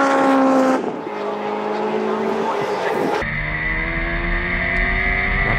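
Sevens race cars at Kirkistown circuit roar loudly past, their engine notes shifting in pitch as they pass and another car follows, with a commentator's voice running over the engine noise.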